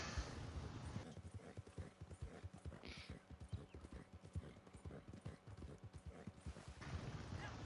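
Horse hooves clip-clop steadily in Red Dead Online, a close, even trot that runs the whole time with faint rustling and game ambience behind it.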